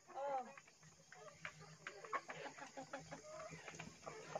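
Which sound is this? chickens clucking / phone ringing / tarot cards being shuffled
chickens clucking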